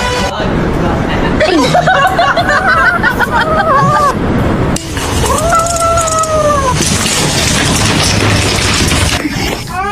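A black cat gives a few drawn-out meows amid loud, busy chatter and laughter from several people nearby.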